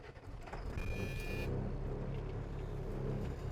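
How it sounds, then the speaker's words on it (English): A Class A truck's engine cranks with a brief whirring starter noise and then settles into a steady, low diesel idle rumble, heard close up with no talking. "and I'm going to start the truck."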